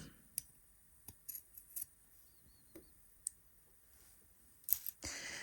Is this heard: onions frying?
no